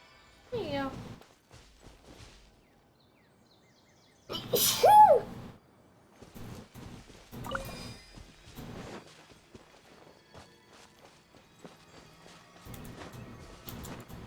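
A sneeze from a person during a Genshin Impact gaming session, one sharp loud burst in the middle with scattered talk and game sounds around it.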